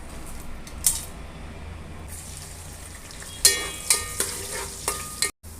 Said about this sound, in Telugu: అన్ని బిర్యానీ స్పైసెస్ వేస్తున్నానండి.